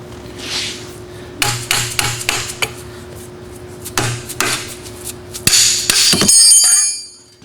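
Sharp hammer blows drive a bushing into the rear axle of a 1948 Chevrolet, landing in irregular bursts of close, loud metallic strikes with brief ringing, then a final dense flurry of blows.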